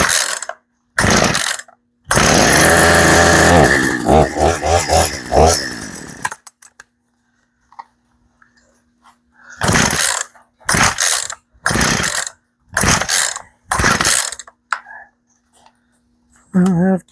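Poulan chainsaw on half choke: a couple of short pull-cord rips, then the engine catches and runs for a few seconds before dying, followed by a series of separate starter-cord pulls that fail to restart it.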